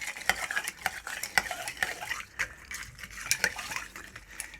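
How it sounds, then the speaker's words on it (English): A long spoon churns crushed ice and limes in a glass for a vodka cocktail, giving a rhythmic series of scraping, clinking strokes with crunchy ice rattles, close and fairly quiet, with no talking. "Just take a long spoon and just kind of churn it, bring the limes to the top"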